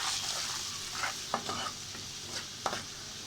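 Spices (turmeric, chili, coriander) frying with onion, green chili and a little garlic in a pan, a steady close sizzle with several brief scraping stirs, no talking.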